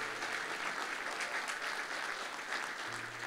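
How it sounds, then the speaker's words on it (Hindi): A church congregation claps for Jesus during a sermon, producing steady, dense applause that sounds somewhat distant and soft, holding even throughout without voices on top. "जोरदार तालियां खुदावंद यीशु मसीह के लिए"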